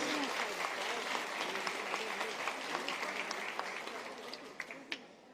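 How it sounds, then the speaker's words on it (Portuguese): Audience applause for Wagner Borges at a ufology lecture, a dense, steady wash of clapping from a crowd that holds throughout and thins slightly toward the end, with a few sharper claps standing out. "Uma mega salva de palmas para Wagner"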